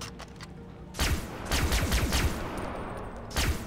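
Gunfire in the video game Far Cry 3 Blood Dragon: bursts of rapid shots and impacts, moderately loud, in a dense cluster after a quieter start, with a final short burst near the end.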